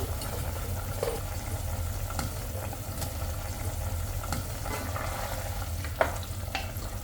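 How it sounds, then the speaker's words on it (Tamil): A pot of kola urundai kuzhambu, a Tamil curry, bubbles and sizzles steadily, with a constant simmering hiss and occasional soft pops, and no voices. "குழம்பு நல்லா கொதிச்சிட்ருக்குது"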